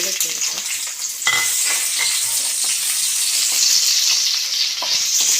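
Cashews and raisins roast in ghee in a pan, giving a steady, close sizzle with soft stirring scrapes and small crackles that keep going without a pause.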